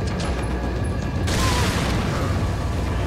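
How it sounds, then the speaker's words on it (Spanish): A loud explosion from dynamite in the Resident Evil 4 remake on PS5, a sudden broad roaring blast that swells over steady game noise and rumbles on without a clear decay. "Le ha dado la explosión al que estaba en la puerta"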